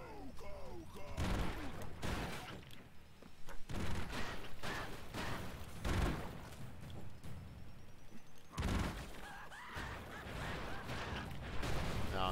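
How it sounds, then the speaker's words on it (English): Explosions from the video game Broforce pound away in a dense, continuous barrage of booms and crackling gunfire-like bursts, heard at a fairly low level. "wait for the explosions to die down"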